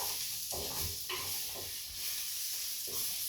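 A spoon scrapes and stirs spiced vegetables in a hot pan with a soft sizzle underneath, in several uneven strokes close by and fairly quiet.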